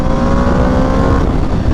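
A 2026 Aprilia RSV4 Factory 1100 sportbike roars close and loud under acceleration during break-in riding, a dense, gritty engine note that holds steady for the short burst.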